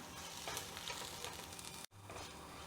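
Potatoes frying in a pan sizzle steadily as curry leaves go in, with a brief sharp crackle and drop near the end before the hiss resumes; no voices.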